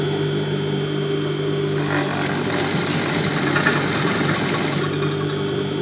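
An electric sewing machine, worked by a foot pedal, runs steadily up close with a continuous mechanical whir and hum that grows a little busier midway; no one speaks.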